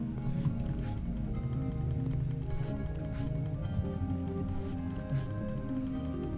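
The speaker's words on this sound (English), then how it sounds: "You can hear me clicking like crazy here." Rapid, sharp computer mouse clicks tick in a dense irregular stream over a loud low game soundtrack during play of the game The Housewife.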